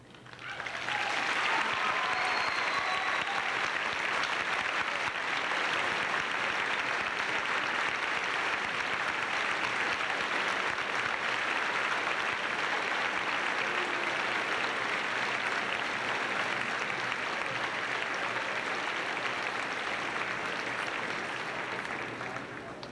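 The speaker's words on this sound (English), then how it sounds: "That's not the juniors that are standing and applauding" A graduation audience at a 1999 Graves County High School ceremony stands and applauds, a dense, steady wash of many hands clapping that fills the hall continuously for over twenty seconds.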